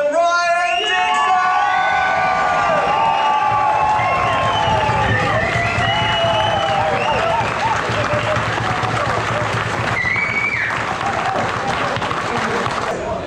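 A crowd at the Lord of Lydden sidecar burn-up event in 2022 applauds and cheers for the winners, with sustained loud clapping, whoops and shouts mixed with voices throughout.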